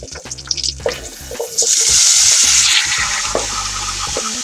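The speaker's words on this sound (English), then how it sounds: "I'm going to mix these veggies back in" Strained vegetables get stirred into crispy bacon in a pot for a pot roast, with scraping stirs at first, then a loud swelling sizzle that settles into steady frying noise.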